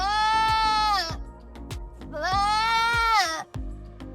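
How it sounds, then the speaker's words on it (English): A young goat bleats loudly and up close in two long, wavering calls for its mother, each cry rising then tailing off, with a short pause between them. "This is how funny the little goat calls its mother."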